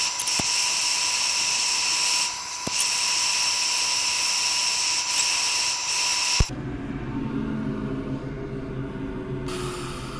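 A lathe spins a Huon Pine box while 180-grit sandpaper works against it, a steady high whine with a harsh abrasive hiss, then the tone cuts off and a lower rough rumble continues.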